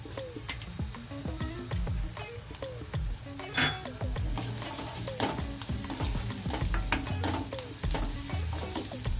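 Chopped onion and ginger-chili paste frying in hot oil, a continuous crackling sizzle broken by frequent spatula clinks and stirring scrapes against the pan, fairly close and busy throughout.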